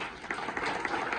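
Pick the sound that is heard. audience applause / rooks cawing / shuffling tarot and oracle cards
audience applause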